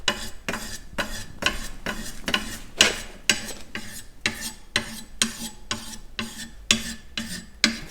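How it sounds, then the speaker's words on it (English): A curved inshave blade drawn against an abrasive from the outside edge, producing a steady series of about fifteen rasping, scraping strokes in even rhythm, close and distinct with no talk. "So I recommend that you do all the sharpening from the outside."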